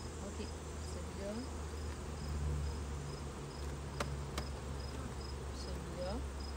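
Honey bees swarm around hive frames, a dense steady buzz filling the air at close range, with faint chirping insects and a few brief clicks of frame handling.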